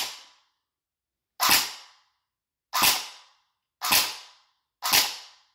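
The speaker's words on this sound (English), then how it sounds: "now I'm gonna do a side shooting so you can see the action of the electric blowback on the charging handle" A Snow Wolf PPSh-41 airsoft gun with electric blowback fires five single shots, each a sharp, loud crack with a brief decaying tail, spaced about a second apart with silence between them.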